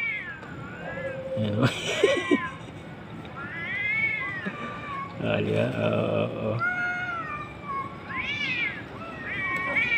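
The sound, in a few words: cats meowing and fighting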